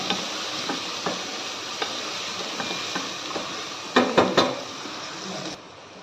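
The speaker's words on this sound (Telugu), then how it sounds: "ఈ ఆనియన్స్ అనేటివి గోల్డెన్ కలర్లోకి వచ్చేంత వరకు బాగా వేగనివ్వండి" Chopped onions fry in a pan until golden, a soft steady sizzle with occasional light clicks and a quick cluster of spoon scrapes near the end, close and moderate, with no talking.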